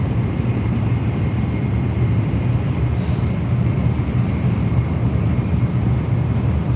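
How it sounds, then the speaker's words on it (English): A loud, continuous roar of a Japanese train running fast through a tunnel between Hamamatsu and Nagoya, a steady broadband rush with a faint hiss rising midway. "Ito yung mga train dito"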